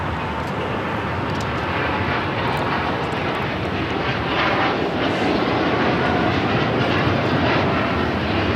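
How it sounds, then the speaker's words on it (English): A Japan Airlines Boeing 787-9 Dreamliner takes off from Los Angeles airport, its engines giving a loud, sustained roar that swells slightly as the run goes on, with no voices. "This is Japan Airlines Flight 15 taking off to Tokyo Haneda on the 787-9 Dreamliner"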